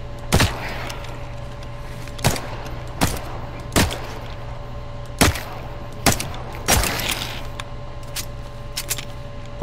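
Single gunshots ring out one after another in The Cycle Frontier, about a second or two apart, each a sharp crack over a steady low hum.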